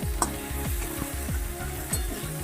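Okra being sautéed and stirred in a pan, a steady oil sizzle under rhythmic scraping strokes of a spatula, close and continuous, with a couple of sharper clinks.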